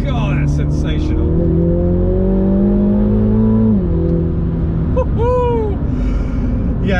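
A MINI GP3 car powers out of a corner with a loud, sustained engine drone heard from inside the cabin, its pitch climbing steadily before a gear change, with a brief high squeal near the end.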